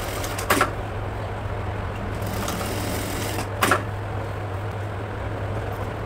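A sewing machine stitching the top part of a kurti, running in a continuous close, even hum with a couple of brief clicks and knocks as the fabric is handled.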